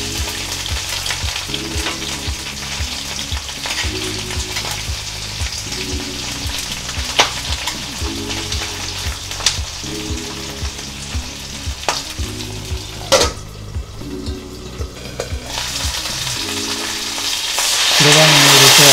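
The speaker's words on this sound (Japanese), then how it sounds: "ここに半割りにしたエビを殻を下にして炒めていきます" Halved head-on shrimp frying shell-side down in a pan for a South Italian pasta, a loud continuous sizzle with occasional turning scrapes, close and steady, swelling near the end, with no voices.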